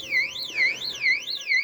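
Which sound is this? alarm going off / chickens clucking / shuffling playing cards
alarm going off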